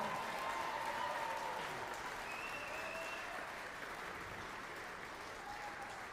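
An audience at a hybrid charity gala applauds, dense steady clapping from many hands that stays loud and fades only slightly, with a faint voice underneath at points.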